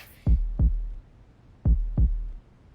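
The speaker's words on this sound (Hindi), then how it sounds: "मेरी धड़कन 5G स्पीड से क्यों चल रही है?" Heartbeat sound effect: two close, deep double thumps, a pause, then another pair, loud and isolated in silence.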